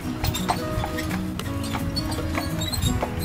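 Horse hooves clip-clop steadily on a carriage ride through Sherwood Forest, a continuous close rhythm of hoof strikes with faint voices and cart rumble underneath.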